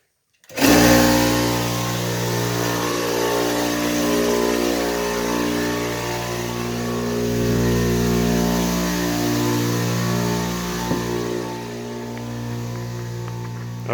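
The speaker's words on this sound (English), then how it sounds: "Turn on the air compressor. So this is going to get a little bit loud here for just a minute." An air compressor runs in a garage during work on a 1992 Dodge D150 truck, a loud steady motor drone with strong low hum that starts abruptly and holds unchanged to the end.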